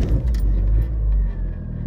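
Tofaş Toros sedan heard from inside the cabin while running, a steady low engine rumble with a slight fluctuation, close and fairly loud.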